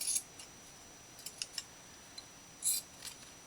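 Scissors snip through fabric scraps while tassels are trimmed, giving several short, crisp cuts at irregular intervals, close and fairly quiet with no talking.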